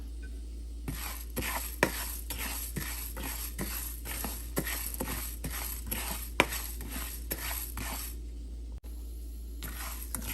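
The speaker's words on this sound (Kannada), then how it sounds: "ಇದರ ಜೊತೆಗೆ ಅಕ್ಕಿ ತೊಗೊಂಡಿದ್ವಲ್ಲ 1 ಟೇಬಲ್ ಸ್ಪೂನ್, ಅದನ್ನು ಸೇರಿಸ್ತಾ ಇದ್ದೀನಿ" A tablespoon of rice being added to a pan and stirred, with a steady run of light rhythmic scraping and clinking strokes over a constant low hum and no talking.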